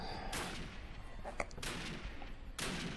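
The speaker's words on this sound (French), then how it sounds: "On tire dans le ventre pour immobiliser et ensuite on tire dans la tête pour tuer." Sniper rifle shots in Call of Duty ring out as three sharp, fairly faint cracks spaced about a second apart, each with a brief decaying tail over a low game background.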